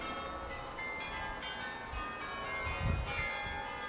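Carillon bells of the Mechelen cathedral in Belgium ringing at a distance, with sustained overlapping tones under a steady low rumble of outdoor ambience.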